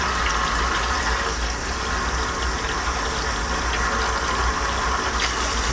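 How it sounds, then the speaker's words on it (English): Warm water gushes steadily into a plastic winemaking bucket, a loud continuous rushing fill that runs without pause and with no talking. "So I'm gonna put some warm water into this."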